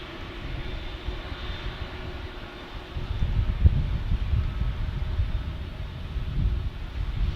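A Hawaiian Airlines Airbus A321neo jet roars steadily at an airport, a broad sustained engine rumble with wind noise, swelling slightly louder midway and holding without any talk.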